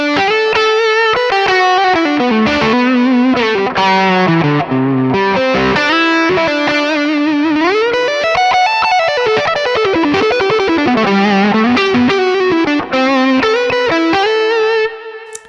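A loud, distorted electric guitar through a Mesa Boogie Mark IIC+ high-gain amp tone plays a fast lead line alone, with sharp, cutting notes, quick runs and sweeping bends, thick and saturated throughout.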